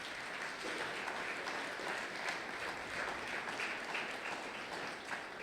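A church congregation applauding at a Sunday praise and thanksgiving service, with steady, even clapping from a large crowd filling the room for several seconds, fairly distant, without speech on top.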